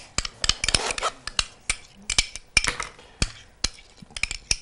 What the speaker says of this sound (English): Now let's go ahead and put the mayonnaise in.